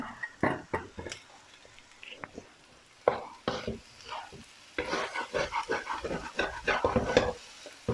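Shrimp fat is stirred in a pan over low heat with egg for shrimp-fat fried rice, producing soft sizzling under irregular scraping and stirring strokes that grow busier toward the end.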